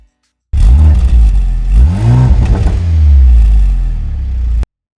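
A 2024 Mercedes-AMG GLC 43 SUV engine starting and revving through its quad exhaust tips, a loud sudden start followed by two rising revs and a sustained throaty idle, then cut off abruptly.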